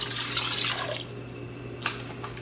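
Water pours into a pot for cooking rice, a brief splashing stream that fades after about a second, followed by a couple of small drips and clinks against a low steady hum.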